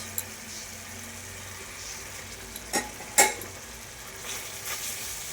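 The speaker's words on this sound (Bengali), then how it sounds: "আমি এখন ভোলা মাছটা দিয়ে দিচ্ছি।" Bhola fish frying in spices in a home kitchen pan, giving a steady close sizzle with a few sharp clatters from stirring and no voices.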